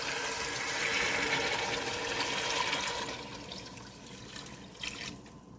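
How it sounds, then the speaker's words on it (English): Water pours in a steady rushing stream into a pot of borscht, loud at first and then thinning and tapering off toward the end. "next, we're going to add our water."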